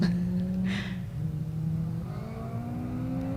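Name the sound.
race car passing on the track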